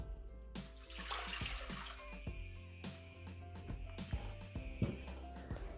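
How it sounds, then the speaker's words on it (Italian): Water pours into a Thermomix (Bimby) jug for gluten-free pizza dough, a faint, quiet trickle and splash heard beneath louder background music. "Iniziamo la ricetta mettendo all'interno del boccale l'acqua"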